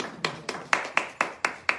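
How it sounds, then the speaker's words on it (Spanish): Slow, evenly spaced hand claps, about seven in all, ring out in a Spanish-language Sunday morning church service, fairly faint and clear with little else around them. "Vamos a dar un aplauso al Señor de la gloria"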